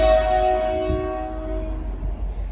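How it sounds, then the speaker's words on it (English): A loud train horn blares with a steady tone, then fades as the rumble of a passing train carries on underneath, near an abandoned motel in Warm Springs, California. "Train!"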